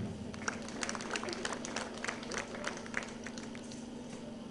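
Faint scattered clapping from a distant crowd, irregular and thin, over a low steady hum.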